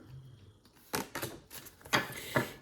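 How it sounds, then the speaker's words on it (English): Oracle cards being shuffled by hand, a series of quick papery riffles and slaps in several short bursts with quiet gaps between, close and fairly soft. "I'm going to start with an oracle card, which is what I'm shuffling here."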